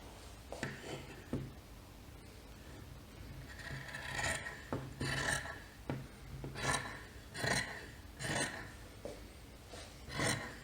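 Scissors cut fabric along a sewing pattern, a Simplicity 1463 garment with hem allowance added, making a series of crisp snipping and rasping strokes in irregular bursts, close by and fairly quiet, with no talking.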